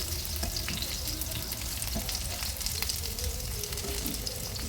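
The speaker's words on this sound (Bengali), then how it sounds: "এইভাবেই উল্টিয়ে পাল্টিয়ে আমি সুন্দর একটা গোল্ডেন কালার করে ভেজে নিয়েছি দুই পাশে" Brinjal slices coated in gram flour deep-fry in hot oil, giving a loud, continuous, crackling sizzle that stays even throughout, with a few faint stirring clicks.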